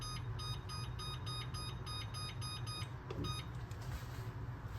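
A kitchen timer gives a rapid series of short, bright electronic beeps as it is set, close and clear above a low steady background hum.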